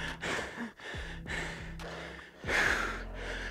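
Heavy, ragged breaths from someone winded after a HIIT workout, a series of deep gasping inhales and exhales in uneven bursts, close and fairly loud with a low hum underneath.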